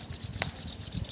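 Palms of the hands rubbed briskly together during a yoga breathing session, a soft steady swishing friction that pulses in short strokes with one brighter scrape, close and quiet with no talking.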